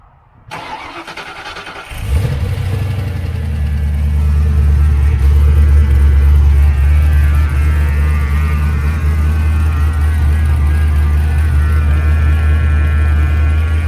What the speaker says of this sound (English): Papa T is about to fire his car up.